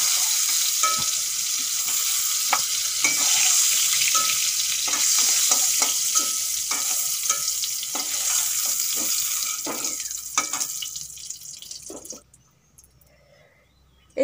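Pointed gourd (potol) slices frying in oil: a loud, dense, steady sizzle with frequent scraping and knocking from stirring for about twelve seconds, then the sound drops sharply to near quiet.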